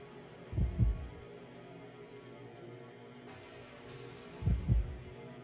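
In the video game Baroque, a low, muffled heartbeat thumps in a double pulse, sounding twice several seconds apart over a faint hum.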